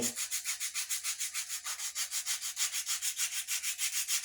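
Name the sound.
detail sander sanding wood with sandpaper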